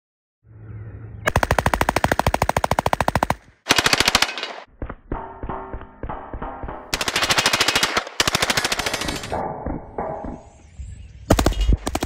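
Machine gun firing tracer rounds in loud, rapid sustained bursts, rattling strings of shots broken by short gaps and a few single cracks, close and powerful.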